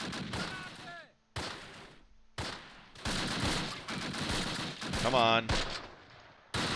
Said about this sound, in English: Is it just one Fallschirmjäger MG in there that's just having its day with us?